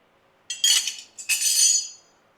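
A 22mm and 19mm spanner working a ball joint nut on a Toyota Hilux steering rack, giving two short metallic clinks and scrapes close by in an otherwise quiet space.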